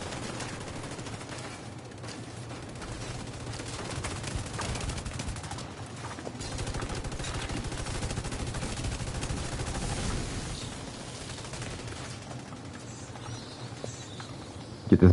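Dense, continuous gunfire and muffled battle noise fill a firefight in the video game The Division 2, with shots blending into a steady, busy roar throughout.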